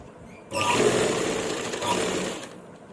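An electric sewing machine stitching lace onto the edge of a dupatta runs in one steady, close whirring burst of about two seconds, starting abruptly and stopping cleanly, with no talk over it.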